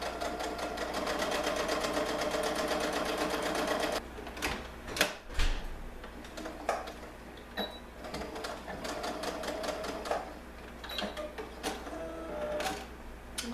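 A sewing machine stitches fabric for a ruffled peasant dress, running in fast steady bursts with a brief stop and restart partway through, while a voice speaks lightly over it.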